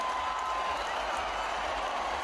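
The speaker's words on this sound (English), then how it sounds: "And the crowd goes wild." Crowd at a concert, a dense, even wash of applause and cheering that stays at a steady, somewhat distant level throughout.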